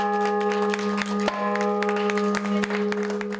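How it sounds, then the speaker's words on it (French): Newly restored church bells at La Tourlandry sound steady sustained tones that hum and overlap, with faint clicks and knocks between the strikes and no voices. "les habitants et paroissiens ont eu un avant-goût des sonorités procurées par ces cloches"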